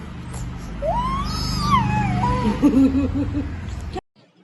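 A cat gives a long, wavering meow that rises and falls, followed by a shorter warbling cry, close by, before the sound cuts off abruptly.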